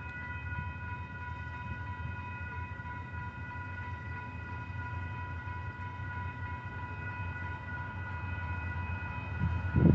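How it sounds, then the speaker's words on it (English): A southbound Union Pacific freight train led by UP 7388 rumbles steadily past with a constant drone and faint horn-like tones, the noise swelling slightly at the end. "It's a UP train"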